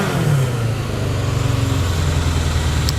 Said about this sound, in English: it's snappy, instant throttle response.